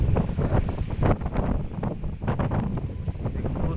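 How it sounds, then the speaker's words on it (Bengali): Strong pre-storm wind in the Bangladeshi wetland during the month of Boishakh buffets the microphone in loud, gusting rumbles that rise and fall without a break. "অনেক বাতাস বইতেছে।"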